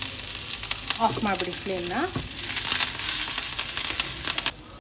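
Mustard seeds, cumin, curry leaves and green chilies sizzle and crackle in hot oil for a cucumber kosambari tempering, loud and continuous, with someone briefly speaking over it and a few stirring clinks.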